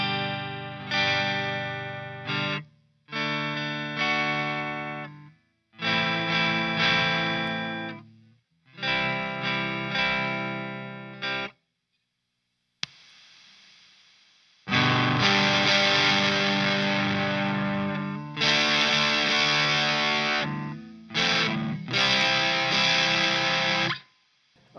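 Electric guitar played through a Fender Pugilist Distortion pedal, loud saturated chords and riffs in several bursts separated by brief pauses, with sustained fuzzy tone and ringing decay.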